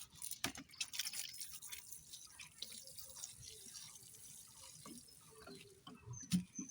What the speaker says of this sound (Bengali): এবার আর একটু জল দিয়ে দেব